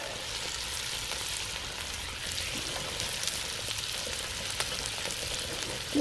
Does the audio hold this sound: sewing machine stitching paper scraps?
no